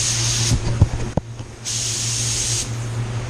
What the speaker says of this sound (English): So this gun I like to spray at 24 psi